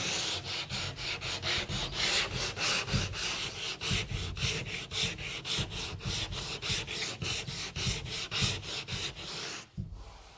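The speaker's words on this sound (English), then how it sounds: "I'm just going to take some 80 grit and go over it" Sandpaper of 80 grit is worked back and forth over a wooden kayak coaming, a rhythmic run of quick rasping strokes, close and steady, stopping just before the end.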